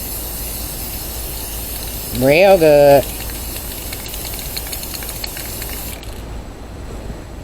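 Continuous hissing of an aerosol spray can sealing inkjet water slide decal paper runs throughout, with a short spoken phrase in the middle; the hiss cuts off near the end.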